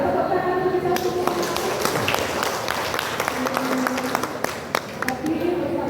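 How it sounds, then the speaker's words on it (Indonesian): An audience at a librarians' gathering claps together, dense crisp clapping with scattered sharper individual claps, continuous throughout, while voices murmur and talk faintly underneath. "tepuk tangan kita semua"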